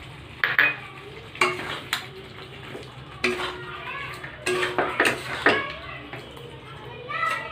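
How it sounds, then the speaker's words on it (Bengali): Chicken korma is stirred in a pot after almond paste is added, with repeated clinks and scrapes of a utensil against metal in uneven bursts over a low simmering sizzle. "এর মধ্যে আমি বাদামের পেস্টটি দিয়ে ভালো করে নাড়াচাড়া করে নেব।"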